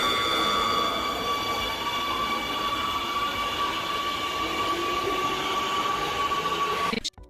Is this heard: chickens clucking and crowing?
no